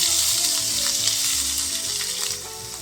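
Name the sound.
green grapes sizzling in coconut oil in pan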